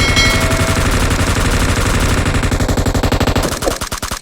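Unsuppressed M249 machine gun in PUBG Mobile fires sustained rapid bursts, loud and close, with the rhythm loosening into spaced shots near the end and no voices.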